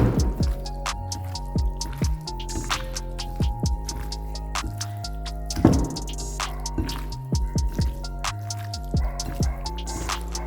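Squid pieces coated in masala are mixed and squished by hand, giving repeated wet squelching and sticky slaps with irregular rhythm, close by and moderately loud with no talking.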